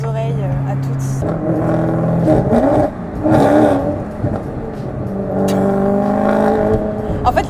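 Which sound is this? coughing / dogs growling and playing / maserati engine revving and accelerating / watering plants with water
maserati engine revving and accelerating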